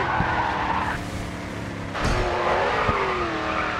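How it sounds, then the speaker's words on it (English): Race car drifting in the video game GRID 2, with loud tire squeal and skidding over a droning engine, the engine pitch shifting as the car slides through a tight turn. "Drift is about fine control."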